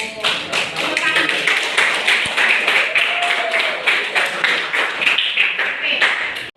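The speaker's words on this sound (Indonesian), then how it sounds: "Tepuk tangan." A room of trainees clapping together during an on-the-job training session, a steady run of quick hand claps that keeps going strongly from start to finish.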